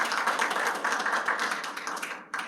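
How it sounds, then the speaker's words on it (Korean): Brief burst of audience clapping at a Korean political party media policy briefing, a dense steady patter lasting a couple of seconds before cutting off. "큰 박수 부탁드립니다"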